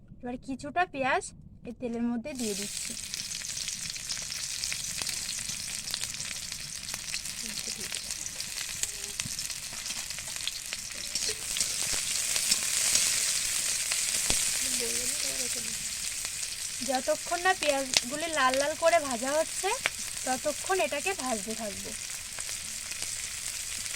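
Sliced onions for biryani beresta fry in hot oil in a kadai, giving a loud, continuous crackling sizzle that swells midway, with a voice speaking over it at the start and again near the end.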